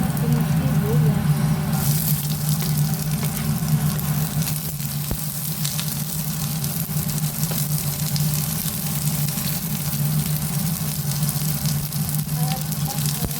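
Onions sizzling in a pan of oil while a Filipino grandmother's favourite vegetable dish is prepared, a steady loud crackling fry running throughout with a low hum beneath it.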